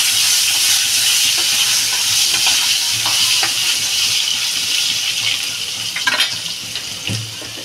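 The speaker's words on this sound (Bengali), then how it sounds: "আলুটা ভেজে নেবো আগে ভালো করে।" Cut potatoes fry in a pan with a bright, continuous sizzle close up, broken by stirring knocks and scrapes that grow more frequent near the end; nobody speaks.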